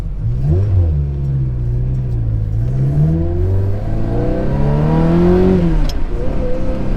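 Manual Ferrari 360 pulling away, its engine revving up through rising and falling gear pulls, loud and close throughout with no talk.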